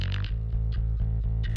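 Heavily distorted bass in a music mix: a deep, booming low end with a crisp, gritty top, pulsing in a steady rhythm at a constant loud level, with no talking.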